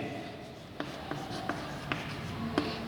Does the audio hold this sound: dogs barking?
no